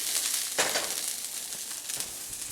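Stir fry sizzling in a hot wok, a bright crackling hiss that swells as the food is tossed and stirred, with a few louder bursts of spatter near the start and again later, close by with no voices.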